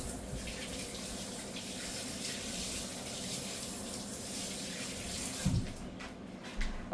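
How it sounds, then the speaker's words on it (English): Tap water runs steadily into a kitchen sink during handwashing, a constant close hiss and splash with a couple of brief knocks near the end. "So let me wash my hands."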